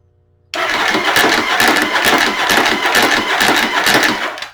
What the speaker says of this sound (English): let's just see what it sounds like when it cranks